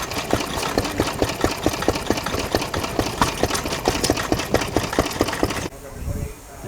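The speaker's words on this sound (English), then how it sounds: "Have a Lister stationary engine water pump," Lister stationary engine driving a water pump with ducts at a vintage rally, a steady close, loud chugging with regular firing beats that ends abruptly near the close, leaving quieter background noise.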